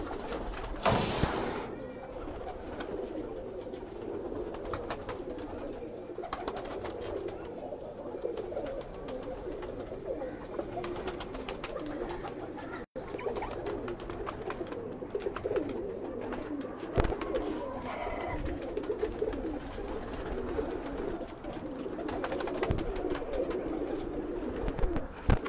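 Pigeons at a rooftop loft kept for breeding and raising young, with continuous low cooing and bird calls throughout, a steady outdoor murmur under occasional handling noise.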